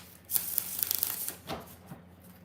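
A quick riffle of tarot cards being shuffled, a crisp burst of flicking snaps followed by a softer tap as the deck settles.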